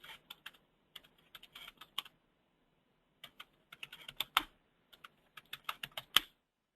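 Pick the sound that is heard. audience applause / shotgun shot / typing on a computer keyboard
typing on a computer keyboard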